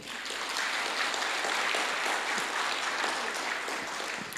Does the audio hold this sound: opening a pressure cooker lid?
no